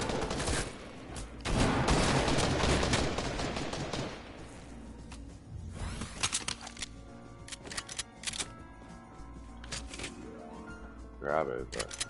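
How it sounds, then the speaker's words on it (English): Bursts of bounty gun gunfire in Fortnite, a dense rapid volley in the first few seconds followed by scattered single shots and short clusters, with game sounds and a voice talking over it. "Use that bounty gun right now."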